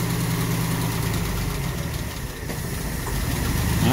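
A 1964 Triumph 2500 barn-find engine idles unevenly with the choke pulled off, a loud continuous low rumble with rough, pulsing firing throughout.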